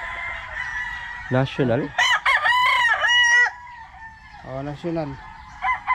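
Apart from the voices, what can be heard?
stag roosters crowing at gamefowl farm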